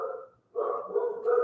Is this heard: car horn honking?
no